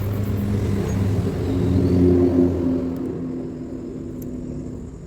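A Honda Vario motorcycle starter motor, cleaned and reassembled with its carbon brushes fitted, spins with a steady close-up whirring hum that holds continuously throughout.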